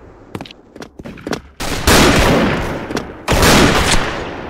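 M82 Barrett rifle gunshots: a few sharp close cracks at first, then two very loud, long booming blasts with rolling echo filling the rest, no talk.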